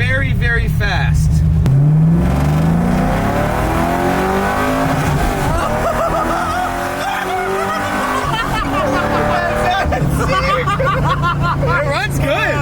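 An LS-swapped 1975 Camaro accelerates hard to merge into fast traffic, a loud rising engine roar climbing through the revs with people talking and laughing over it.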